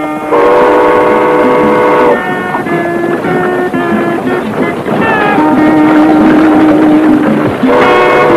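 A loud steam train whistle blows in several long, harmonic blasts over the rumble of a moving train, with its pitch shifting between blasts.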